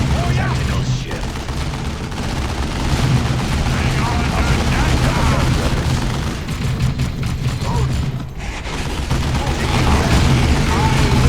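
Battlefield gunfire in Warhammer 40k: Dawn of War 2 rattles without a break, with dense overlapping shots and heavy booms. It is loud and close, and voices are mixed in underneath.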